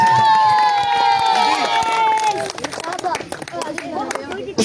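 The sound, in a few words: crowd applause and cheering at cricket prize ceremony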